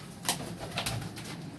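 Racing pigeons, tumbler-type flying birds, give a low soft coo with a couple of brief louder bursts that may be wing flaps, fairly close, with no talk over them.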